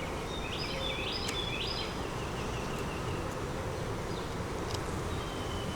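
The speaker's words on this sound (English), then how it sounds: "And bees." A close, steady drone of honey bees swarms around an open double deep hive, the buzzing dense and unbroken, with occasional higher whines as single bees fly past.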